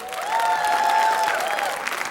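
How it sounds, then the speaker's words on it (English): An audience at a dance recital claps for a committee organizer in a brief, dense burst of applause that swells and holds for about two seconds. "So one round of applause for her."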